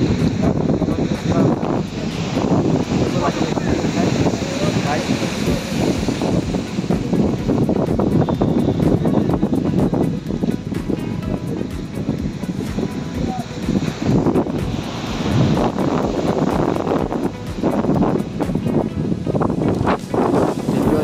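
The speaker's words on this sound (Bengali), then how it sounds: "কতটা পরিমাণে জল আসছে, একদম খুব বড় করে ঢেউ জ্বলিয়ে আসছে অনেক দূর থেকেই" Sea waves and gusting wind on Digha beach, a broad continuous roar of surf mixed with wind buffeting the microphone, loud and unbroken, with voices faintly present.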